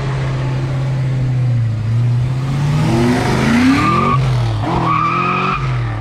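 A supercharged 1992 Ford Mustang Foxbody notchback coupe revs loudly and squeals its tires, with rising and falling engine pitch sweeping up under a sustained, screeching tire skid close by.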